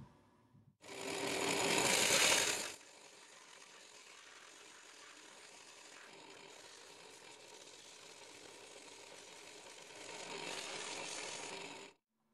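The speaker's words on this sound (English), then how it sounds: "we're gonna crank up the sander and get this handle shaped real quick" An electric sander shapes a fishing rod handle with coarse sandpaper, starting with a loud grinding burst, then settling into a steady whirring hum that swells louder again near the end.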